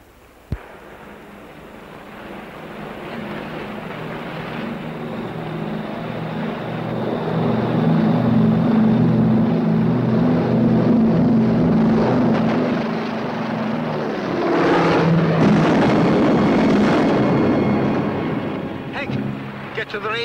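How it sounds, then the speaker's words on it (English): An aircraft engine roars steadily as it takes off, its drone building and swelling to a loud sustained rumble with a brief surge near the end, heard without clear talk over it. "Come on, we'll miss the takeoff."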